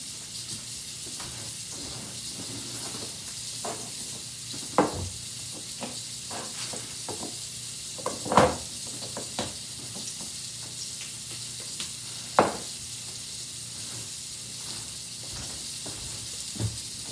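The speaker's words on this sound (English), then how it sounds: "I'm just waiting for these to sear off" Salmon sears in a hot pan with a steady, close sizzle and hiss that runs the whole time, broken by a few sharp pops and clinks of a utensil.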